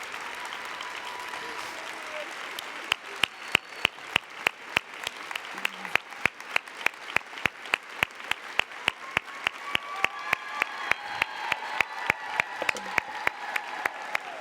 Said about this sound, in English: So let's give her one more round of applause.